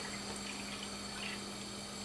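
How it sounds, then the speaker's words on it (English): Two cups of water pour steadily into a cooking pot in a kitchen for grits, a continuous soft splashing stream under a faint constant hum, fairly quiet and close. "So I got my 2 cups of water in there."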